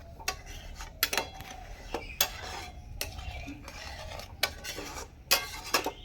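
A spoon stirs boiled milk in a pot for sweet yogurt, giving sharp metallic clinks and scrapes at an uneven, repeating rhythm over a low, soft background.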